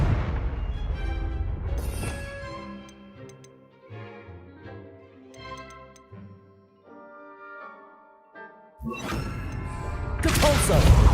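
Confringo blasting spells exploding in the Hogwarts Legacy video game, with a heavy burst at the start and more loud blasts near the end, while tonal game music and chimes play between them.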